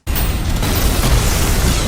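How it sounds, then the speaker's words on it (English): A rail cannon shot in the game ULTRAKILL, bounced off coins and a shield: a sudden loud blast that sustains as a dense, roaring boom for nearly two seconds with no speech. "I used a rail cannon to shoot some coins, which deflected onto the Gutterman's shield, and redirecting that blast onto the Maurice."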